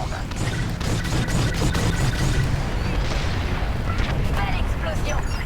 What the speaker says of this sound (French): Belle explosion